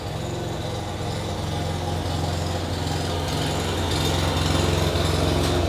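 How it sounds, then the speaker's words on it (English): A lawn mower or string trimmer runs outdoors with a steady, droning engine hum that holds fairly loud and unbroken throughout, with no talking over it. "he goes out and weed whacks or mows the lawn"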